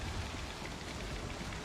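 Steady, dense rain in Star Citizen hisses without a break, a broad wash of falling water heard alone.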